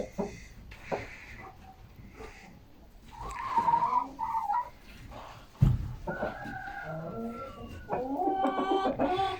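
Red Blue Wyandotte chickens cluck and call inside a ventilated coop, with scattered near and far vocalizations, a sharp thump midway and a denser burst of clucking toward the end.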